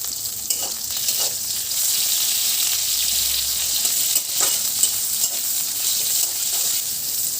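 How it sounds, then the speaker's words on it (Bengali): Eggplant slices fry in hot oil in a pan with a loud, steady sizzle and hiss, broken by a few faint clinks from stirring. "দেখো বেগুনগুলো কিন্তু ভাজা হয়ে গেছে"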